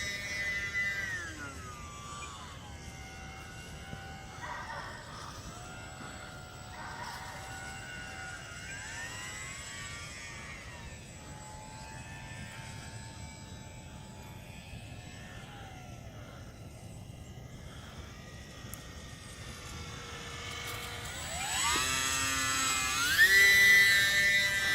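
A small electric UMX Mini Timber RC park flyer plane climbs under throttle, a thin, whining motor tone rising and falling at a distance, swelling louder and higher near the end.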